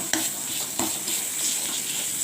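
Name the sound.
masala frying in mustard oil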